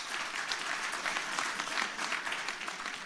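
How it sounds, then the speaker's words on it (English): Audience at an international carbon markets conference hall applauding the panelists, a sustained round of many hands clapping in a dense, slightly pulsing patter that stays steady for several seconds with no talk over it. "I will kindly ask you to give a round of applause to our panelists."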